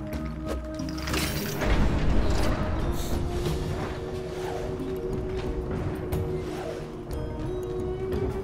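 A large explosion in the action game Knack 2 bursts out with a heavy boom and crash, then rumbles and debris clatters over a continuous loud game soundtrack.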